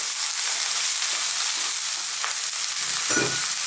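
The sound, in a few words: stirring chickpeas frying with spices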